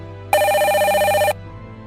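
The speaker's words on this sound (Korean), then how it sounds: "전화가 왔네." A telephone rings once, a single loud electronic trill lasting about a second with a rapid warbling pulse, sounding alone against faint background hum.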